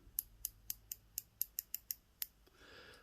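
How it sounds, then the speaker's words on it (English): A Bulova 98A190 diver-style chronograph's bezel rotating, producing a series of crisp, evenly spaced metallic clicks heard up close in a quiet room, ending with a softer rustle. "The bezel action on this, I have to say, is one of the nicest that I've come across."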